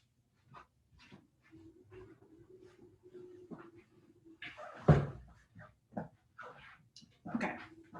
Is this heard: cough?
no